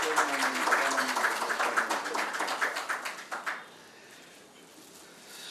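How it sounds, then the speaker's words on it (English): A warm round of applause from a seated audience welcoming a guest speaker at a management association event in Ahmedabad, clear rhythmic clapping that thins and fades out into quiet room tone after a few seconds. "amidst a warm round of applause from all of you, welcome Dr. Rabinder Malik"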